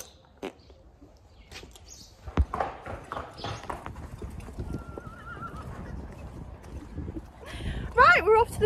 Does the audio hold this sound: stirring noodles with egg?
no